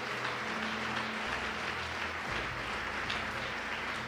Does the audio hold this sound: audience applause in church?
yes